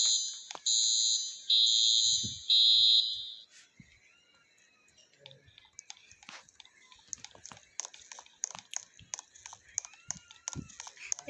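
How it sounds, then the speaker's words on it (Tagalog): A fire alarm in a school blares in three loud, shrill electronic bursts, then cuts out, leaving quiet room noise with scattered clicks and taps. "The fire alarm, I forgot to put it off."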